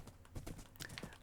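Horse hooves clip-clopping in Minecraft during a ride, a quick, steady run of soft thuds close up with faint clicks, no talk over them.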